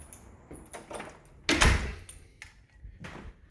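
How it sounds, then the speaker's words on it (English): A house door opening with a sharp loud thump and rattle midway, set among quieter handling clatter before and after, no talk. "Let me get the door really quick."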